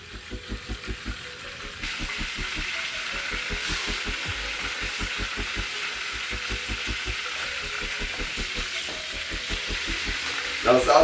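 Salisbury steak patties fry in a pan with a steady crackling sizzle, faint and close, marked by rhythmic low thumps and occasional stirring or scraping noises.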